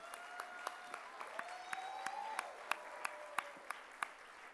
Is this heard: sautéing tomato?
no